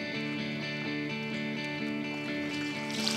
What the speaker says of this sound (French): On a les cascades, on avait prévu 2 cascades.